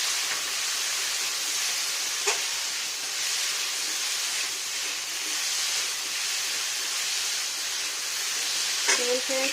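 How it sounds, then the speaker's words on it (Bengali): Salted potatoes fry in a pan while cooking a home-style dish, giving a continuous, fairly loud sizzling hiss with a few faint clinks of utensils near the end and no talk. "আর এটা খুব সুন্দর করে ভাজা ভাজা করি"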